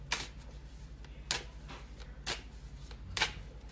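A deck of oracle cards is shuffled by hand, giving four crisp riffling bursts at roughly one-second intervals against a quiet indoor background, close to the listener.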